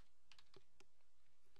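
A computer keyboard types a password during SQL Server 2008 R2 authentication setup: a short run of quiet, irregular key taps, close and clean, with no talking.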